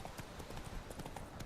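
Hooves of Roach, Geralt's horse in The Witcher 3, clip-clopping in a steady rapid gallop rhythm, close and continuous with no talk over them.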